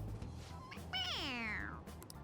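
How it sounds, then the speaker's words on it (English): A toy cat in Persona 5 Royal gives one drawn-out, falling meow when its head is pressed, clear and fairly close over a faint game background. "It meows when you press on its head."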